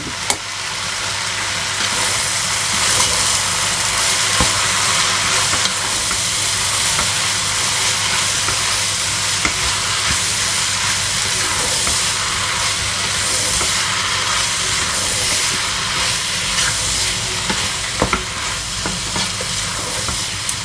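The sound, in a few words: fresh tomatoes and tomato paste sizzling in a pan for chakchouka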